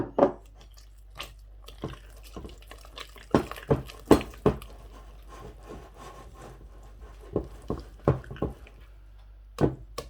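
Pizza dough is mixed by hand as a little water is worked in, giving soft, wet slapping and squelching thumps in an irregular rhythm, close and fairly loud, with quiet pauses between.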